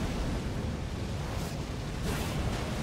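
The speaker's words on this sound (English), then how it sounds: "Oh, this is the explosion." A big explosion in Elden Ring, a dense roaring burst of noise that fills the whole stretch, loud and sustained with a couple of swelling surges rather than a single sharp bang.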